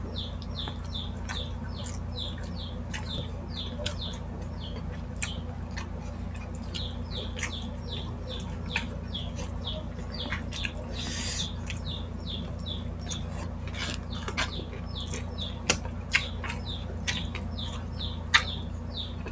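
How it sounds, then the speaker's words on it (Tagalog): Newly hatched chicks peep noisily and continuously in the background, a dense run of high chirps with occasional sharper ticks and clicks, over a steady low hum and no talking. "Ingay na sisiw."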